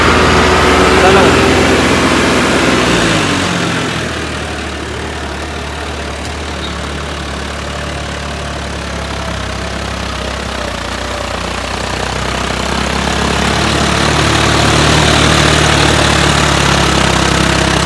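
A turbocharged John Deere farm tractor, unmodified and factory fitted, its engine running steadily at 2500 RPM, a loud continuous close-up drone that dips and then builds again, with voices talking over it.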